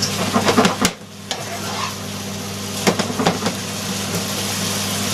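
Steady broadband sizzle of cottage pie filling frying in a non-stick pan, with a few scraping stirs and utensil clatters over the continuous hiss.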